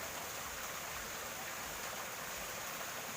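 Steady broadband rush of a strongly flowing river, swollen by rain, constant and fairly faint, heard without voices.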